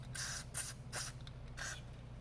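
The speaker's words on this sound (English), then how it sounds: "spray some oil around" Several short hissing bursts from a spray can of oil applied to a gun, close by, separated by brief pauses over a low background hum.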